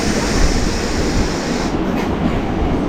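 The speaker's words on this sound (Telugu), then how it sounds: "మన మెమూ ట్రైన్ వచ్చేసరికి చాలా అంటే చాలా పుట్టది" A MEMU passenger train on the Rajahmundry to Vijayawada line is running, with a loud, steady, dense rumble of wheels and carriage noise, close by and continuous, with no voices.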